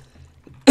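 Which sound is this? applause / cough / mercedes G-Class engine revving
cough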